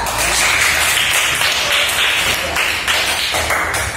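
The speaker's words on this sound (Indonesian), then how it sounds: "Tepuk tangan untuk kelompok 2" Students in a classroom clap for a group that has just presented, a loud, close, dense burst of hand clapping that holds steady for several seconds.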